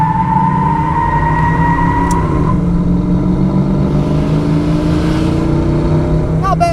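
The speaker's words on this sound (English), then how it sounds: "we're gonna go ahead and pull out here from a dead stop and see if we can't get a little tire smoke" A 1990 Ford Mustang LX hatchback with a 5.0 V8 and automatic transmission pulls away hard from a dead stop, its engine revving up close and loud, the pitch climbing and then shifting as the gears change.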